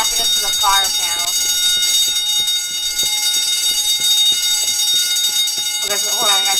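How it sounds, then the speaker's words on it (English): Steady high electronic fire alarm ringing nonstop inside a mall being wrecked by a tornado in the game Teardown, with someone talking over it now and then. "Did I set off like the fire alarm?"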